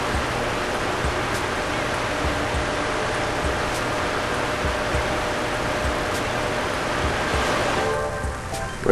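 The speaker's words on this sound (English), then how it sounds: "Wait for you skim over the water by being towed by a boat." Water rushes steadily as a wakeboarder is towed behind a boat in Wii Sports Resort, a continuous splashing hiss that fades near the end.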